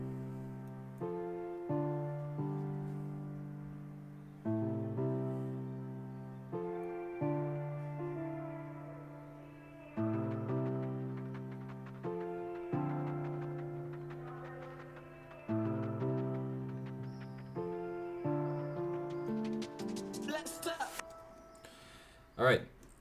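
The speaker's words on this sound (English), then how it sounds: "the main element is this piano, which is a pretty simple piano if you think about it" A simple processed piano riff opens a remix, repeating chords struck in a steady pattern, each note swelling and decaying, with a brief rising swoosh and a sharp hit near the close.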